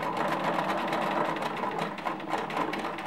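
Sewing machine running steadily as it stitches a knit neckband onto a V-neck T-shirt, a continuous close whirring hum for a few seconds with no talking.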